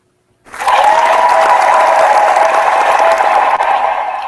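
A crowd bursts into sustained, dense applause that starts suddenly and holds steady, tapering slightly at the end.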